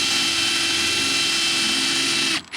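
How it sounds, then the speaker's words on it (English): Power drill boring a hole in the top of a sailboat's deck, a steady loud high-pitched whir that cuts off abruptly near the end. "I'm going to drill this hole in the top of here,"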